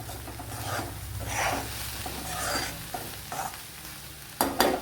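Cooked onions get pushed back and forth in a pan with a utensil, making rhythmic scraping swishes over a soft sizzle, close and moderately loud, ending in a couple of sharper knocks; no one talks.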